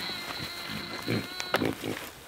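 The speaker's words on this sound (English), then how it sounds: "Come on, pigs." Farm pigs grunt and snort at close range while being fed grain and banana peel, a few loud bursts rising over a low steady background, with a person's voice heard briefly.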